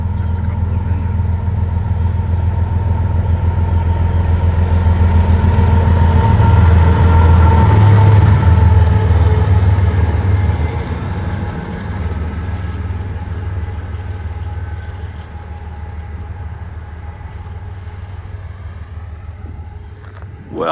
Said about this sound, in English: That was just a couple of engines